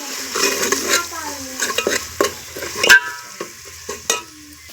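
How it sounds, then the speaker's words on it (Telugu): Turmeric and spices fry for a fish curry on a wood-fired stove, with a soft sizzle under repeated close scrapes and stirring clinks from a utensil in the pot. "పసుపు వేసి పచ్చి వాసన వరకు వేయించుకోవాలి"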